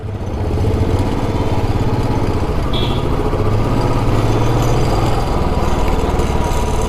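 A motorcycle engine idles steadily nearby outside a hotel in the Darjeeling hills, a constant low chugging rumble that holds the same level throughout.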